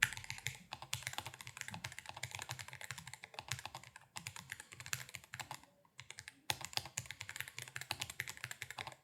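A mechanical computer keyboard in a home office is typed on: quick bursts of crisp, clacky keystrokes in uneven runs with brief pauses, close and quiet, with no voices.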